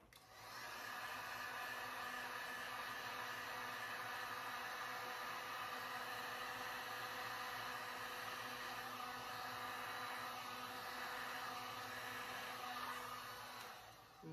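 A heat gun blows hot air over resin in a steady, continuous whooshing hum that starts just after the opening and runs unbroken at an even level until cutting off at the end.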